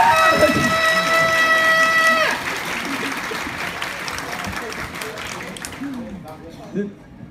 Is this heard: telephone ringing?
no